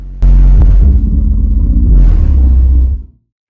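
Deep bass test tones from a woofer driven by a SoundQubed U-series amplifier with an 80 Hz low-pass filter, a loud sustained rumble that starts abruptly, holds with a slight pulse and then cuts off near the end.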